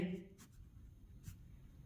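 A pen scratches out a few short, faint strokes during a Hindi-language Class 9 math lesson on area and volume, with quiet speech in the background.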